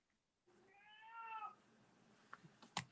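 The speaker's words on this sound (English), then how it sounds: "Someone's got a cat?" A cat meows once in a drawn-out, wavering cry during a quiet online meeting, faint and slightly distant, followed by a few soft clicks and bumps.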